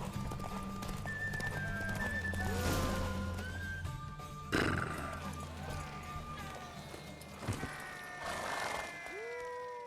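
Galloping horse during a race in The Witcher 3, with steady clip-clop hoofbeats running throughout, whinnies and snorts breaking in at intervals, and a low roaring bed beneath the moving hooves.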